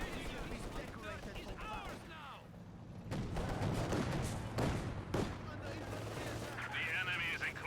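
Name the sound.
machine gun fire in Company of Heroes 2 video game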